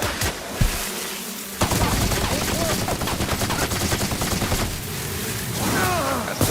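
Automatic gunfire in the video game The Outer Worlds: rapid, dense bursts of shots rattle almost continuously for several seconds, loud and close.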